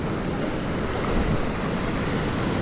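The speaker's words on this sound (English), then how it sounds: "And the waves are coming" Ocean surf washing onto a beach, a steady close roar of breaking waves and wind buffeting the microphone, with no voices.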